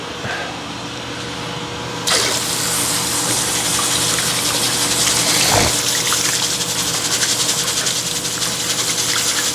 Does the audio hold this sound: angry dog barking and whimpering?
no